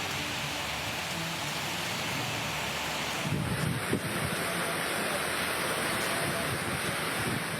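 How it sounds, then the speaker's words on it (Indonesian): Heavy rain lashes down with strong storm winds over the town of Jember, East Java, a dense, steady roar of downpour and gusting wind that swells louder partway through, with no one speaking. "hujan deras disertai angin ribut melanda kota Jember"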